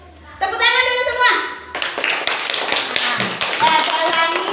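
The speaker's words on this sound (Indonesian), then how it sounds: "Tepuk tangan dulu semua." A classroom of children clapping in unison, a quick burst of rhythmic claps after someone speaks, with more children's voices chattering over the clapping as it continues.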